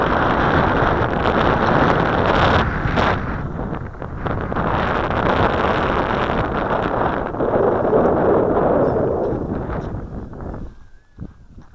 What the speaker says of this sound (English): that wind blew that way down there